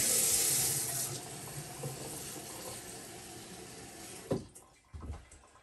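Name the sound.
water running into cooking pot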